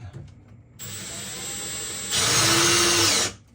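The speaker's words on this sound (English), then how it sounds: "we're going to take our bracket, we're going to hold it in place, and use one screw to get it into where we want to put it" A power drill drives a screw into a bed lift bracket in an RV, a loud close whine that rises in pitch partway through, then cuts off abruptly.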